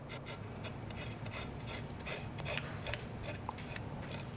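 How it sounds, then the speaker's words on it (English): A knife blade scrapes charred black skin off roasted Hatch green chiles, making a faint, continuous rasping and scratching with quick repeated strokes close up. "we're going to use our knife and just scrape off that black skin"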